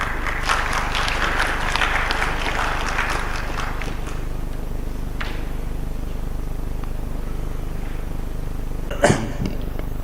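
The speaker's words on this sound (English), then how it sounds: "with a round of applause, please." Applause in a conference hall at a North East mining ministers' conclave, a crowd clapping for a few seconds that then fades into a low room hum, with one sharp knock near the end.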